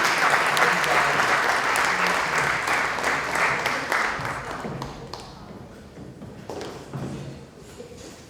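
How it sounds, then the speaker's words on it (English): Audience applause at a benefit evening, a dense wash of many hands clapping that starts full and loud, then gradually thins and fades with scattered claps and crowd murmur toward the end. "Ladies and gentlemen, let's make a round of applause."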